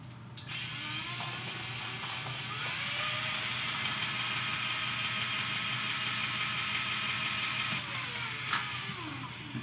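A spin art machine whirs steadily as it spins a painted heart, a continuous motor-like hum with a high whine that holds evenly for nearly ten seconds, with no talking.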